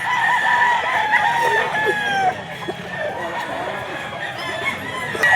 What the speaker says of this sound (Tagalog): Manok ni Boss Apon, ang ganda nitong ano.